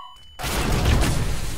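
A flashbang grenade in a first-person shooter game going off after a short click, a sudden loud burst of broad hiss and rumble that stays sustained and dense to the end.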